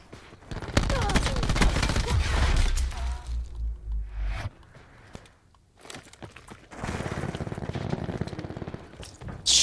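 Suppressed SOG gunfire in a multiplayer shooter game, rapid bursts of muffled shots and impacts coming in rattling clusters with pauses between them, close and fairly loud.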